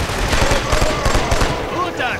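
Gunfire in the first-person shooter Killzone 2 comes as rapid, loud bursts of automatic shots in quick succession, with a short rattling tail at the end.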